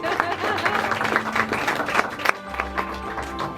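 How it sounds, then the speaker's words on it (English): Guests at an engagement party clap and cheer for a speaker during the speeches, a moderate burst of scattered applause with some voices that fades out after a few seconds. "Give him a round of applause."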